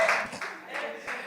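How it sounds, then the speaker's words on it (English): A youth group claps together briefly at an evening gathering, a short burst of scattered hand claps with talking over it. "All right, let's clap her up."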